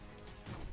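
An impact grenade blast in the Black Ops 6 video game: a sudden loud, low thump that swells and rumbles on for a fraction of a second, standing out against a steady background bed.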